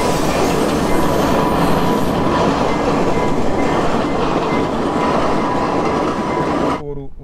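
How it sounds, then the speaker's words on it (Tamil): A train thunders past very close at a railway crossing near Nuwara Eliya, Sri Lanka, a loud continuous roar of wheels and rumbling carriages that cuts off abruptly near the end. "பாருங்கள் ட்ரெயின் எவ்வளோ பக்கத்தில் வந்துட்டு"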